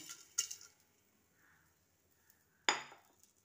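Vegetables for a pressure cooker, including papaya, carrot, beans, peas and potato, go into the pot with two sharp metallic clinks separated by near silence and no talking.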